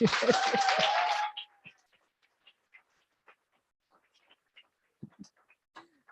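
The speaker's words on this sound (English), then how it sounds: "Let's give him a big round of applause" An audience bursts into dense applause that fills the first second or so and then stops abruptly, leaving a quiet room with a few scattered small noises.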